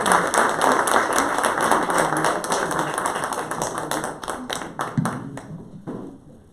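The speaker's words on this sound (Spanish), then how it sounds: "Me gustaría que le demos un fuerte aplauso a Fray Max Pérez." An audience breaks into strong applause to welcome a friar speaker at a talk, dense clapping holding steady and loud before thinning and fading out in the final seconds.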